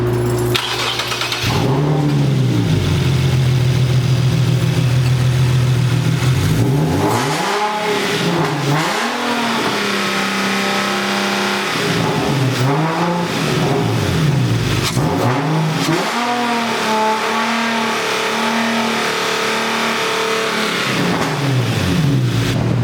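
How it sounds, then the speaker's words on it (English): An Infiniti G37 fitted with a K&N Typhoon ram air intake starts and revs repeatedly, loud and close, with rising and falling engine sweeps over a loud aftermarket exhaust. "it's hard to hear over the obnoxious exhaust, but it definitely has a different tone. You definitely hear that intake"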